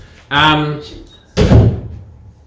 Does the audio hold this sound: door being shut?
yes